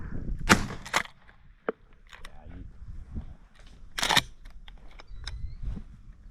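Shotgun blasts during a dove hunt in a Minnesota pasture, two close sharp reports early and another loud one later, with scattered hunters' voices talking around them.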